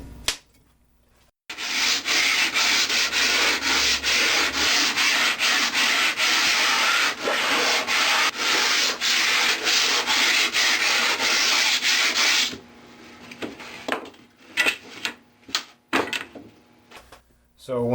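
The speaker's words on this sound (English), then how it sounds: "just sand the surfaces of these boards so that the glue adheres better" Wooden boards being sanded by hand before gluing: a steady, rapid back-and-forth scratching of rhythmic strokes for about eleven seconds, then a few scattered knocks and scrapes as the work stops.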